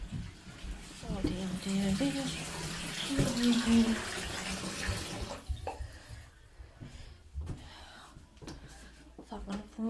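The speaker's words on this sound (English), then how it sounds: "I'm just gotta check my bath before it overflows" A bathtub fills from the running tap, a loud, steady rush of water for several seconds that then cuts off, leaving faint drips and room noise, with a person speaking nearby.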